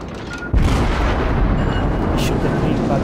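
Naval gunfire rolls through a World of Warships battle between the Cleveland and the Nürnberg, with a heavy boom arriving after a short lead-in and a dense, sustained roar of shelling behind it.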